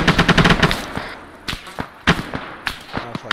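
Machine gun fire from a video game, a loud close burst of rapid shots followed by scattered single cracks and more distant rattling bursts, with no talk.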